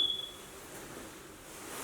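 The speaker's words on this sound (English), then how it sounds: "Definitely an alarm in it." A single short, high electronic alarm beep chirps at the very start inside an abandoned asylum for the criminally insane, followed by quiet room tone with no further beeps.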